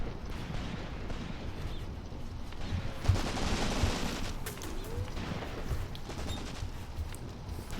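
Scattered distant gunfire crackles across a battlefield in the World War II tactics game Graviteam Tactics: Mius Front, Croat Marsh battle, with a few sharper nearer shots over a low rumbling ambience.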